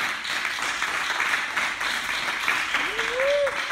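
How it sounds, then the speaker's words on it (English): An audience claps steadily in a continuous wash of applause at a live presentation, moderately loud, with a brief tonal sound rising near the end. "So clap it up once again."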